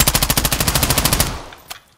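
Rapid automatic gunfire from a gun in Call of Duty, a fast steady burst of loud shots for over a second that stops abruptly, leaving a brief faint click and quiet tail.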